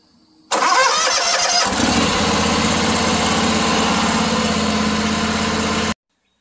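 A riding lawn mower's engine, started by bypassing the solenoid, cranks briefly with a whirring starter, then catches and runs at a loud, steady idle before cutting off abruptly, close up and with no talk.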